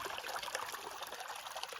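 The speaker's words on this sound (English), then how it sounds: "that's a lot of water just to be seeping through the rocks and collecting right here" Water seeps through rocks and trickles into a small pool outdoors in Vermont, a faint, continuous patter and babble heard close by without speech.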